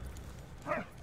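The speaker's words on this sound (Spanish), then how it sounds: "¡Ven aquí, perrito!" A German shepherd in the World War I video game Valiant Hearts gives a single short, faint bark or yip, brief and quiet against a low background hum.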